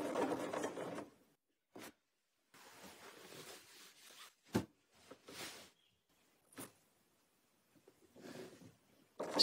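A domestic sewing machine stitching in the ditch of a quilt guided by a ruler, heard in short bursts of mechanical whirring broken by pauses and sharp clicks, close and moderately quiet.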